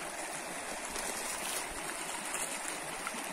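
Water from a stream flows steadily over stones in a broad, even rush of hiss and trickle, close by and alone with no talk.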